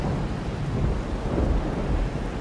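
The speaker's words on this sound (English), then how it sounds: "I hear him scream through the sound of the pouring rain." Heavy rain pours down in a thunderstorm, a dense, steady roar with low rumbling swells of thunder underneath, continuous and fairly loud throughout.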